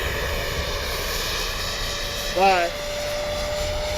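Freewing 90mm J-10 RC jet plane flying at dusk, a constant turbine whine with a brief swelling pass as it sweeps by, while someone speaks a single word.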